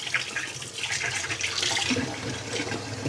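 Tap water runs steadily into a kitchen sink while a spatula is rinsed, a continuous close splashing hiss with small shifts in the flow and no talking over it.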